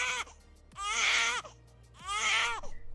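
A newborn baby cries in two loud, wailing bursts with a short pause between them, heard on its own with a low hum underneath, as a sound effect in a narrated story.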